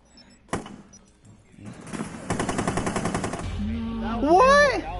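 Rapid 9mm SMG gunfire in Rainbow Six Siege, a fast burst of close, sharp shots with a loud single crack before it, followed by rumbling in-game effects and whooshing sounds.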